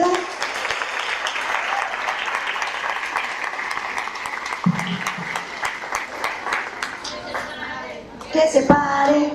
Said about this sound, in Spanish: Demos por favor un fuerte aplauso a Ángela